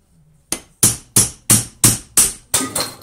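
Gentle hammer blows on a Trabant 601 drive shaft part during a joint overhaul: seven sharp metallic strikes, one alone and then a steady run of six, close and loud, each ringing briefly before the next.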